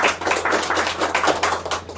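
Dense applause for prize winners at a jewellery showroom event, many hands clapping steadily and close up for the full two seconds, with no voices over it.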